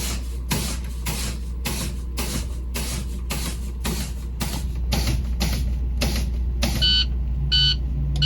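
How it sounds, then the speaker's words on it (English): A truck's in-cab low air pressure warning buzzes in short harmonic bursts near the end, after a run of rhythmic hissing air pulses from pumping the brakes, all over a steady idling engine rumble. "I should hear the low pressure warning alarm"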